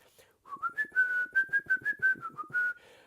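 A lone synthesizer keyboard, a Birotron or Polymoog, plays a short, bright melodic line of quick, clearly articulated notes, clear and close, with no other instruments, opening a track on a 1978 album.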